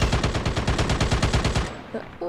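Rapid automatic gunfire in a video game, a close, loud burst of about a dozen evenly spaced shots that stops before the end and is followed by brief faint noises.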